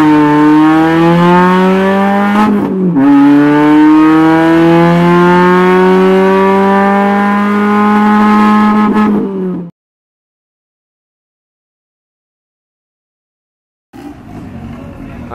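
A Fiat Uno 1.6 turbo engine revs hard and loud, holding a steady high drone, dipping for a gear change, climbing again, then cutting off abruptly into silence before a faint return.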